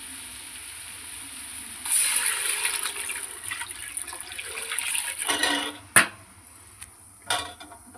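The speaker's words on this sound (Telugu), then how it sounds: "అయితే వాటర్ పోసుకుందాం" Water is poured into a hot pan while making bagara rice. A sharp rushing hiss rises partway through, then a few brief splashy bursts follow, with no voices.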